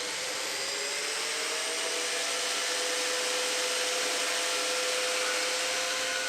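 Bandsaw cutting lengths of Unistrut metal channel, a continuous steady whine with a thin ringing metallic tone running unbroken throughout, fairly close and alone without talk.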